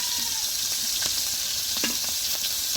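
An egg fries in hot oil with a constant bright sizzle and a few faint utensil taps, close and steady without talk.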